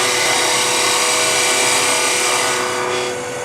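A turning tool cuts wood on a lathe, giving a loud continuous rough shearing roar that holds steady and eases slightly at the end.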